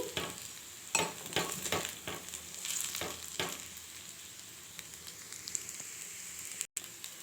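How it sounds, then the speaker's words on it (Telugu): Semiya upma being stirred in a pan, a soft sizzle under a run of scraping strokes that come close together early and thin out later, with a brief gap near the end. "ఇలా చక్కగా కలిపేసుకోవాలి చూడండి నేనైతే ఇలా చక్కగా కలిపినాను చూడండి"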